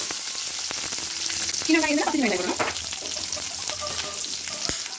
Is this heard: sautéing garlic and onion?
yes